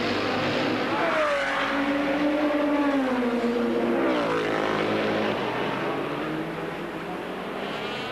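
Ford and Jaguar race car engines at the 1984 Miami Grand Prix IMSA street race roar loudly, one engine note rising then sliding down in pitch as a car passes close by, with a steady engine drone continuing beneath.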